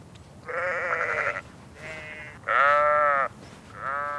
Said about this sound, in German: Darüber klagen auch die Schafe. Nicht etwa, weil sie frieren, sondern vor Hunger.